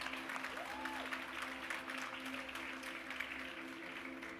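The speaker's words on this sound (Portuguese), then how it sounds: "Aplauda ele em nome de Jesus." A congregation applauds in a church, a steady wash of faint, distant clapping with crowd noise under a background hum.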